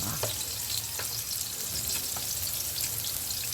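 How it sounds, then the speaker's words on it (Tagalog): Onion and ginger sauté in a hot pan with a steady, close crackling sizzle, broken by a few sharp stirring clicks as a spatula scrapes the pan, for crab in coconut milk. "isunod na natin ang sibuyas at igisa muna natin to bago ilagay ang luya"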